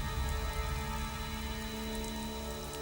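Steady rain falls on surfaces as a continuous, even hiss, fairly faint and without speech or other clear sounds.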